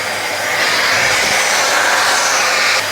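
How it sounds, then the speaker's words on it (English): A vacuum cleaner runs steadily up close, sucking debris from the aluminum track of a sliding window during roller repair, a continuous loud whine with a slight shift in pitch partway through before it cuts off near the end. "all I'm gonna do now is vacuum it"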